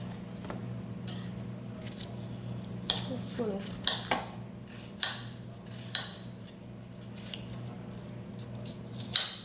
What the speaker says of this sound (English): let's go ahead and cut up all of our apple